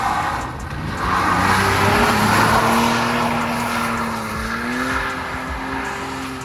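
Car engine in the Farming Simulator video game, a continuous loud drone that rises and falls in pitch as the vehicle drives and changes speed, with no talk.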